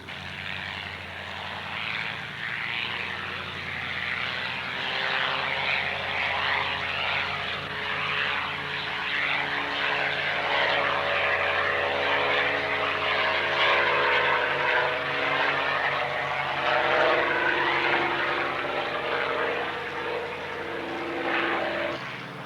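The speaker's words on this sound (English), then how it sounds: "Mark took off in formation with the accompanying aircraft and flew on to Queenstown" Propeller warbird aircraft fly in formation toward Queenstown, their engines a loud sustained drone with a steady harmonic hum that swells slightly midway and holds throughout, with no talk.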